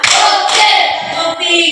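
A group performs a rhythmic clapping routine during an academic coaching session, with sharp hand claps punctuating loud chanted voices that sing along close by.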